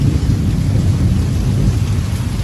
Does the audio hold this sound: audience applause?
no